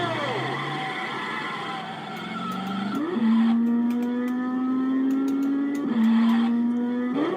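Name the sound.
Bugatti Type 59 engine in a racing video game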